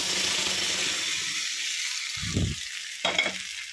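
Loud continuous hissing sizzle of tempering spices frying in hot oil for gongura dal, with a couple of brief low thumps partway through.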